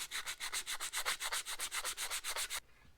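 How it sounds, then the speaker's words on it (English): Hand sanding during a gauge installation on a Ford F250 OBS 7.3 Powerstroke, a quick run of about fifteen evenly spaced rasping back-and-forth strokes, close and fairly quiet, then a brief faint pause at the end. "now we'll sand it by hand, clean it up some more,"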